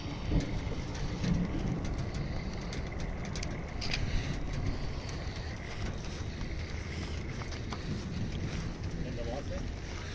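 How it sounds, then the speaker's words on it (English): Rain pours down steadily during a Melbourne thunderstorm, a dense continuous hiss with wind gusts buffeting the microphone throughout. "Here comes the rain, Vaughan."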